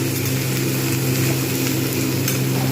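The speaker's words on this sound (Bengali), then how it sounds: "আলু আর ফুলকপি আমি একসঙ্গে ভেজে নেব" Potatoes and cauliflower frying together in a pan, giving a steady, loud sizzle with a constant hiss throughout and no voices.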